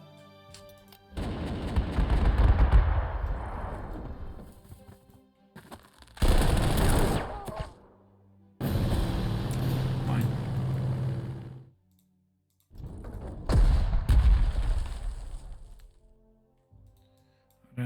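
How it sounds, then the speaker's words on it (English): Bombardment of a bunker in the wargame Panzer Corps 2: three or four separate bursts of loud, booming gunfire and explosions, each roughly two to three seconds long and split by short silences, with no talking. "We're going to start to bombard this bunker."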